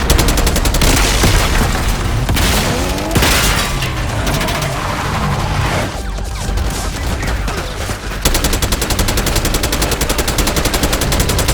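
Dense, loud gunfire in the Black Ops 6 campaign, with sustained automatic bursts layered over booming impacts, continuous throughout and close up, with no talking.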